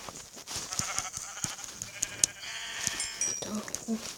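Lambs and sheep bleat repeatedly in a video game set on an unknown island, with short, high calls scattered through the clip over a busy game background while a person talks over them.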